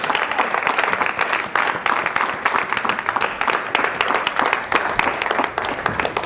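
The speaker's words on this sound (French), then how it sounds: "Est-ce qu'on peut continuer à acclamer le Seigneur?" A congregation applauds and cheers in a church, dense continuous clapping filling the space at a steady, loud level throughout.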